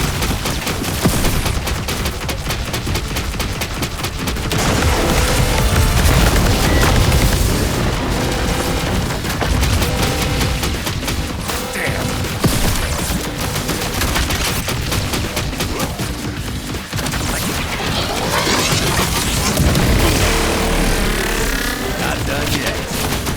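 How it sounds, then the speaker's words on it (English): A dense spread shot barrage of ricocheting bullets in the game Contra: Operation Galuga, with rapid booming gunfire and blasts layered over driving game music, loud and continuous throughout. "Overloading the spread shot creates a barrage of ricocheting bullets."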